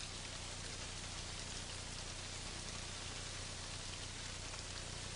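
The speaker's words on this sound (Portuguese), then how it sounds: "A forte chuva tropical causa uma paralisação na escavação." Heavy tropical rain pours down steadily in Africa, halting an excavation dig; a dense, continuous hiss of rainfall on the ground with no breaks and no voices.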